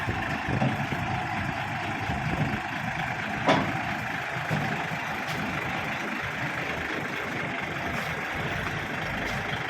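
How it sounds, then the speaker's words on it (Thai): A new farm tractor's diesel engine runs steadily at close range as it is driven up onto a trailer, a continuous low rumbling drone with a brief clank partway through. "เอารถไถขึ้นนะ"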